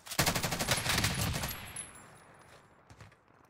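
Rapid automatic gunfire from the Warzone video game, a fast burst of loud, closely spaced shots that trails off into scattered fainter shots and ambient noise.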